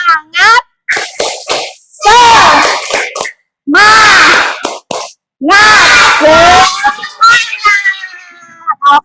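A classroom of children in an Indonesian school performs a spirit clap chant, loud shouted voices in rhythmic bursts separated by short silences, punctuated with claps.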